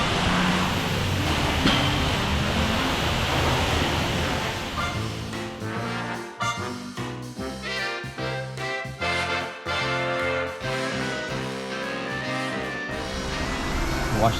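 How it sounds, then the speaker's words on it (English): Steady roadside noise from passing traffic on a street beside a parked RV with an Airstream, loud and continuous throughout, with some voices talking underneath. "It's a little loud. It's on the street here."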